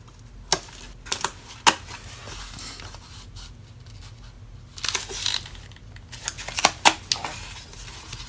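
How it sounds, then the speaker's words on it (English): Double-sided tape is pulled and pressed onto paper for a handmade notepad booklet, giving a few scattered crisp peels and ticks over a quiet hiss, with a denser run of crackly tape sounds near the end. "I'm going to take my double-sided tape and just go ahead and tape this up"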